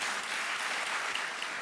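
Luncheon audience applauding Maryland Governor Wes Moore at a chamber event, a short, fairly soft wash of clapping without voices.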